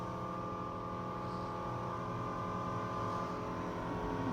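A 496 marine engine idling with a steady low hum and harmonic drone, rising only slightly as the throttle is opened a little, heard close with no talk.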